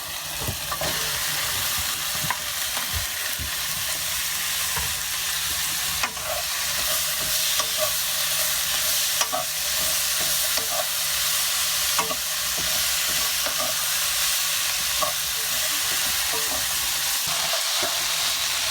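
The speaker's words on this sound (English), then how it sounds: "once you've stir-fried for the cabbage for about 2 minutes" Cabbage stir-frying in a hot pan with a little cumin, a steady dense sizzle and crackle running throughout with small stirring clatters, close and fairly loud, no voices.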